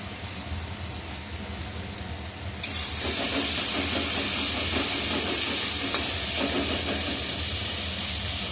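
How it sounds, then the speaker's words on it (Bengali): Turmeric and other spices fry in a hot pan, a loud broad sizzle that starts abruptly after a quieter stretch and then holds steady, with no talking. "মশলাটাকে একটু কষিয়ে নিই।"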